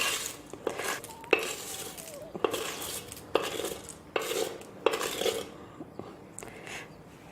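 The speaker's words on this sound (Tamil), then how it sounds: "தாளிச்ச மிளகா கருவேப்பிலையை சட்னியில் போடலாம்." Tempered chillies and curry leaves being scraped into pirandai chutney in a clay pot, with repeated clinks and scrapes of a metal spoon against the pot in uneven bursts, close and moderately loud.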